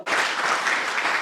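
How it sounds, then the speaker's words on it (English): Lib Dem councillors in the Brentwood council chamber break into a burst of brisk, close applause that starts suddenly and keeps an even, dense patter throughout. "it isn't the Conservatives clapping"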